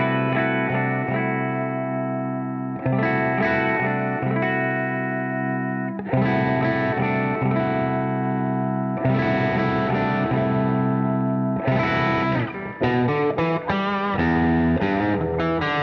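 Fender Acoustasonic Jazzmaster electric guitar played through a fat semi-clean drive tone, loud and close, with ringing chords and picked phrases in several bursts separated by short pauses.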